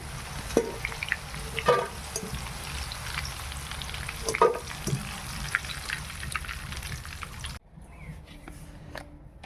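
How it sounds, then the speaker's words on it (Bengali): Steady sizzling of jackfruit frying in hot oil, with a few stirring clatters, then the sizzle drops to a quieter hiss near the end. "দেখুন খুব সুন্দর ভাজা হয়ে গেছে।"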